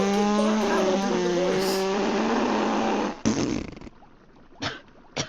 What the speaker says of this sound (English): She fell asleep because of a fart.